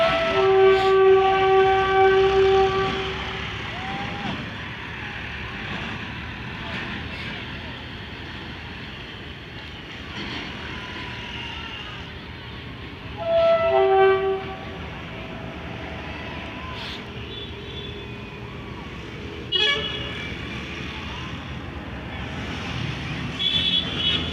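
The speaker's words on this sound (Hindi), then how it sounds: "RG245218 लोकोमोटिव एक ब्रेक वैन के साथ अब आ रहा है ZN-RV कोच के साथ" Locomotive hauling a brake van rolling in along a railway track, steady low rumble of wheels on rail with brief tonal horn or whistle blasts near the start and midway, moderately loud and sustained.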